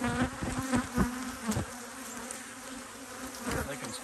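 Bees in apiary hives give off a dense, close buzzing hum with a few louder passes as individual bees fly near, with no talk.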